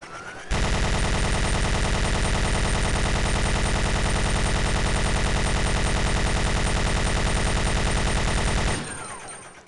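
Infinite machine gun firing nonstop in Resident Evil 2 remake, an extremely fast, unbroken stream of shots held at full loudness for about eight seconds before cutting off.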